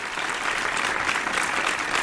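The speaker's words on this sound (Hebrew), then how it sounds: "אני רוצה, קודם כל מגיעות להם מחיאות כפיים." An audience claps for children, a dense continuous round of applause from many hands, steady and fairly loud throughout, with a faint murmur of voices beneath.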